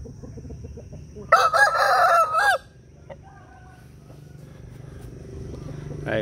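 A young fighting rooster crows once, a loud, close, drawn-out call of about a second, while quiet voices and background noise continue before and after.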